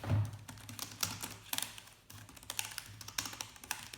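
Typing on a detachable smart connection keyboard case for a 10.2-inch iPad, with a quick run of close, crisp key taps in uneven bursts and short pauses between them.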